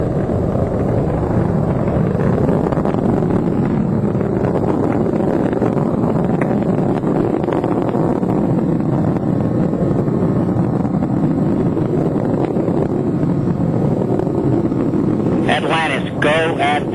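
Space Shuttle Atlantis main engines during the STS-135 launch, heard from a booster-mounted camera: a loud, continuous roaring rumble with wind buffeting, a radio voice audible over it, ending with a brief burst of tonal noise.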